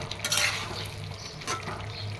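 Tomatoes fry in spiced masala in a small pan, a gentle sizzle broken by a couple of brief stirring scrapes, close and moderately quiet, no voices.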